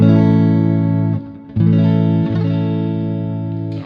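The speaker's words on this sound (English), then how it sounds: "you can just hear just a light touch of reverb or like an echoey, spacey thing" An electric guitar played through an amp with a light reverb and the shimmer effect off rings out in sustained chords that bloom and decay, with a short gap and a fresh strum, no voices.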